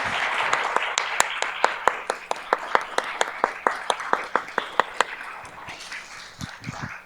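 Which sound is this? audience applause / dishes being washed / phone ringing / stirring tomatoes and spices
audience applause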